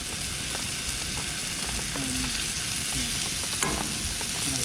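Asparagus sizzles and crackles steadily in a pan on a vintage Coleman camp stove outdoors, a constant close frying hiss with occasional small pops and faint clinks, no voices.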